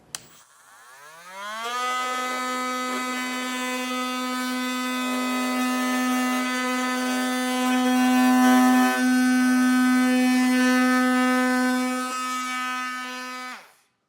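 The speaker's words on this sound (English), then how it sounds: "I'm going to use a reciprocating saw." A reciprocating saw cuts through plastic flaps during a trailer hitch install. The motor winds up quickly into a sustained, even buzzing whine that holds for about twelve seconds before cutting off abruptly, with no talking.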